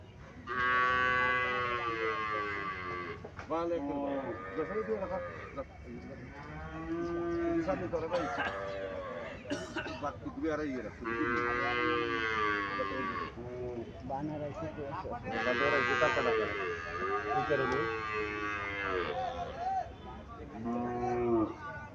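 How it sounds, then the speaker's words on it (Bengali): Sahiwal cattle at a cattle market moo repeatedly in long, drawn-out calls, loud and close, with several animals overlapping throughout and little pause between bellows. "শাহিওয়াল জাতের গাভী।"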